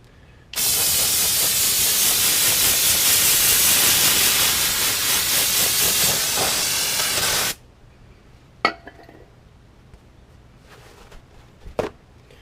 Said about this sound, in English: now would be a good time to break out the O'Reilly parts cleaner